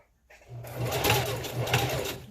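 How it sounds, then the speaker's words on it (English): A sewing machine stitches a strap onto a ponytail, starting after a brief quiet moment and then running as a steady, close whirring rattle with slight pulses in speed until the end. "so we're sewing on our last strap."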